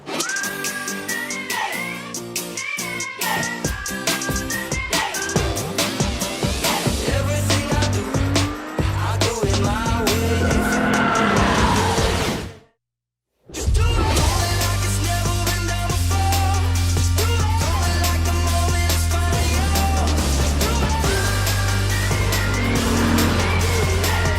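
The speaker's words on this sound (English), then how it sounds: "We're gonna do 1 lap around the track, time attack style, 1 car at a time." A Lexus IS 350 F Sport is driven on a timed lap around a track, its engine revving and shifting loudly with tire squeal, a brief silent gap, then a steady high-revving drone; no talking.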